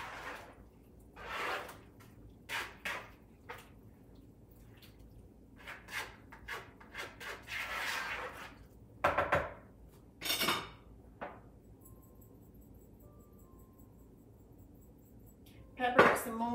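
Breakfast casserole ingredients, seasoned with pepper, get mixed in a dish with a utensil: scattered clinks and scrapes come in short bursts separated by quiet gaps, faint and close.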